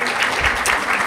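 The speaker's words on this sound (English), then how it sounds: "and they get applause." Audience applauses briefly for staff being introduced at an energy industry event, a short burst of steady clapping that carries through the whole moment.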